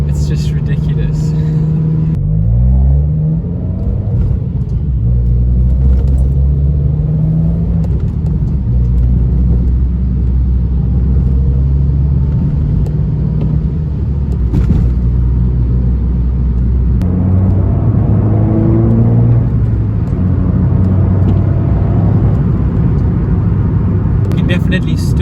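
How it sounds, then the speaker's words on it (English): A 2021 Abarth 595 Turismo with a catback exhaust, heard from inside while driving: a steady low engine drone and rumble with a few rising revs, carrying on under almost constant talking. "Definitely still hear the exhaust."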